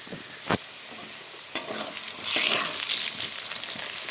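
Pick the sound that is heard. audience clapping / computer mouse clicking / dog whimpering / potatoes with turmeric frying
potatoes with turmeric frying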